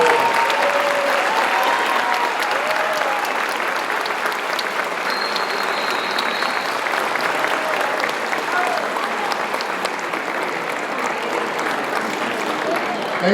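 Graduation audience at a 2022 early college high school ceremony applauding steadily and loudly, a dense sustained wash of clapping and cheering from a large crowd that continues throughout without letting up.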